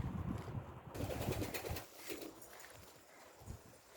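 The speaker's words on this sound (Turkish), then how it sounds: "Kuşlar burada." Pigeons cooing in a backyard coop, low soft throaty calls repeating faintly amid rustling and steady background noise.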